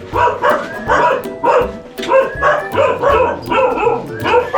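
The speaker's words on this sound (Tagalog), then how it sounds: "Bali, may aso." A dog barks repeatedly and loudly at a house, in a steady run of close, sharp barks with a few yips, and a voice faintly under it.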